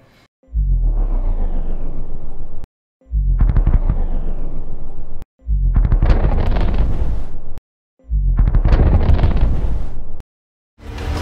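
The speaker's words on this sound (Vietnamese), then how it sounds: "mình kiếm được cái âm thanh của bom nổ và mình slow motion cái tiếng bom nổ đi" A bomb explosion sound effect slowed down repeats four times, each a deep booming roll with a sharp onset that swells and decays, separated by brief silences.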